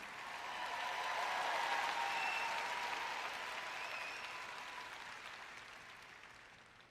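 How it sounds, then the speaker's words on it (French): Audience applause during a French-language sermon, a broad steady wash of clapping that swells in the first two seconds and then slowly fades, with faint voices and cheers mixed in. "Allez, vous pouvez applaudir un peu plus fort que ça."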